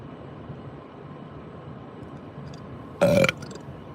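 One loud, rough burp erupts near the end after several seconds of quiet room hiss, short and close to the microphone, with no talking.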